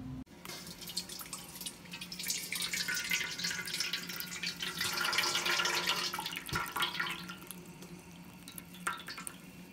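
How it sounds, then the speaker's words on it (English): Water poured from a tap into a large metal bowl holding a coconut coir brick, a steady splashing and trickling stream with bright wet spatter throughout, close by and without talk. "We're going to add 4 quarts of water, and we're going to let that sit for about 20 minutes."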